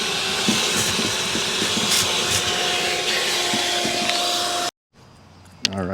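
A vacuum cleaner runs close up inside a Mercedes E55, a steady broadband roar with a faint whine that cuts out abruptly near the end, leaving a quieter background and a short knock.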